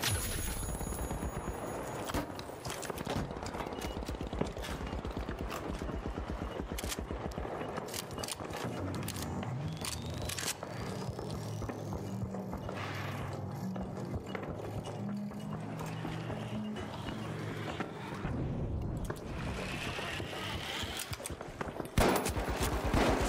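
Rapid gunfire in the video game The Finals crackles in repeated bursts and scattered shots over continuous game noise, with a busier volley partway through.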